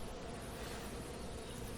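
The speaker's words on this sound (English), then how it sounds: "Bees." Honeybees droning at an opened beehive, a dense, continuous buzzing swarm sound, close and steady with no talking.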